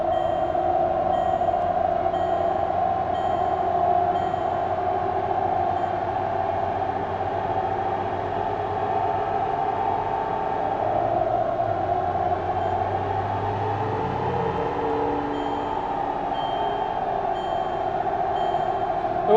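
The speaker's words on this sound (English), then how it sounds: "Tyres are really noisy." Td5 Land Rover driving on the road at speed, its noisy tyres giving a steady loud hum and drone with a low rumble, continuous throughout, with no talking.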